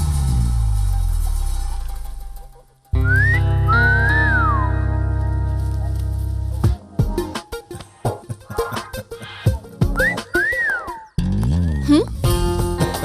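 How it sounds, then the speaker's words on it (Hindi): A man whistles a few short rising and falling tones, loud and close, in a dubbed Hindi comedy film scene, with pauses, bursts of talk and other sounds between the whistles. "सीटी बजाना आती है कि नहीं वही देख रहा था।"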